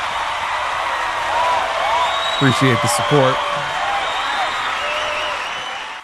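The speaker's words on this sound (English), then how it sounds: "Give you guys a nice cheer." A crowd-cheering and applause sound effect gives a continuous, loud roar of clapping and cheers, and someone speaks briefly over it midway.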